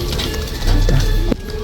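Pigeons at a Filipino loft, young birds among them including ice and blue bar pigeons, coo softly and steadily at close range over a low ambient rumble, with a brief knock near the end.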